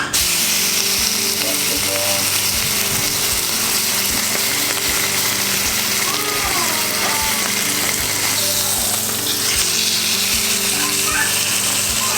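Antelope meat seasoned with Cajun spice and garlic salt sears on hot metal, giving a loud, constant hiss with a faint rhythmic mechanical ticking underneath throughout.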